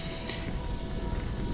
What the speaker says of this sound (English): Oh, God Lord, I nearly crashed there by train.